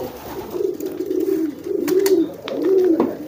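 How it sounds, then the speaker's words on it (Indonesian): Pet pigeons cooing up close, a series of low, throaty rolling coos that repeat at a steady pace, with a few faint clicks and rustles in between. "Ada beberapa merpati saya."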